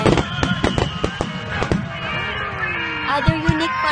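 Fireworks burst at the Ashikaga fireworks festival in Japan, where star mine shells go off in a quick run of loud, sharp cracks and booms. A lower rumbling tail follows with a few more pops near the end, and no voices over it.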